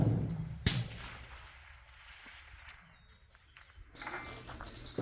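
A single rifle shot cracks sharply at a long-range shooting setting with 1,000-yard targets, one abrupt loud report that fades into quiet outdoor ambience with faint rustling afterward.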